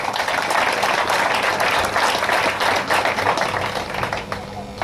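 An audience at a gathering breaks into loud, sustained applause that fills the room evenly, with dense clapping throughout and a slight easing near the end.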